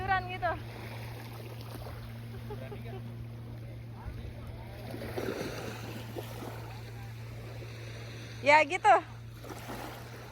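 A boat near Samalona Island off Makassar hums with a low steady engine drone under wind and water noise, while people speak briefly at the start and near the end.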